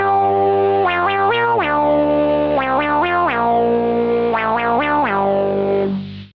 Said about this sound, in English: the acid box brings that band pass filter, but also saturates quite a lot the sound